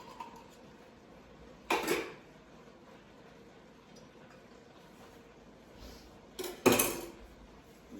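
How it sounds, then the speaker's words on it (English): A spoon clinks and scrapes against a pot while homemade lasagna sauce is stirred, two short bursts of clatter near 2 and 7 seconds over a quiet kitchen background. "Give that a little bit of a stir"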